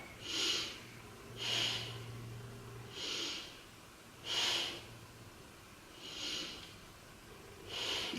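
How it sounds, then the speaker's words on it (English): Slow, deep breaths held through a yoga pose, six soft, even breath sounds spaced about every one and a half seconds, close and quiet, with no talking. "Take 3 breaths here."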